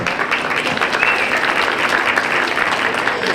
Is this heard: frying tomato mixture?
no